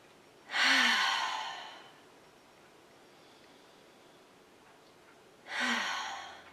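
Two slow, deep breaths during a seated yoga twist, each a soft airy exhale separated by a quiet pause of a few seconds, close and gentle.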